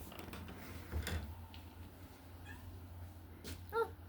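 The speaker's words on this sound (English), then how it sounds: "Oh, I just got meowed at." A domestic cat meows a couple of times at close range indoors, short tonal calls near the end over a low steady household hum.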